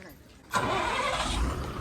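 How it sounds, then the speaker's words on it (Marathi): A large ST bus engine cranks and catches with a sudden roar, then settles into a loud, steady rumble close by. "गाडी स्टार्ट झालेली आहे."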